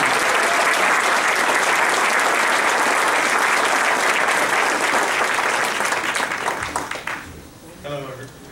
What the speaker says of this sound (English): A round of applause for Stan.